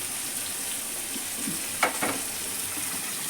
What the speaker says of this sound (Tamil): இது இப்போது நல்லா வெங்காயம் தக்காளி நல்லா வதங்கிருக்கு